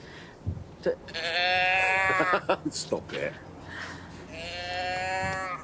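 A replica teddy bear growler voice box, made to mimic a baby bear calling, gives several drawn-out sheep-like bleating cries close up, with people talking in between.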